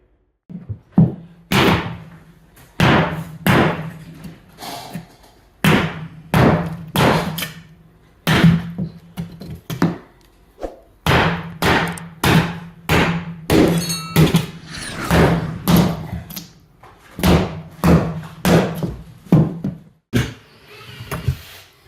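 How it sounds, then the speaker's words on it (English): Repeated heavy hammer blows on linoleum while replacing a mobile home kitchen subfloor, in irregular bursts, loud and close, each strike a dull thunk with brief pauses between groups. "Got to cut the linoleum back tight and go to it. So I'm using my hammer"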